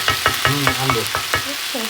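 Onion and garlic frying in hot oil as a tempering, with a loud close sizzle and a quick regular series of stirring scrapes about four or five times a second.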